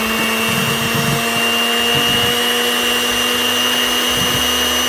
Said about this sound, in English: now we're going to use our hand mixer on the first knob right here, the first number 1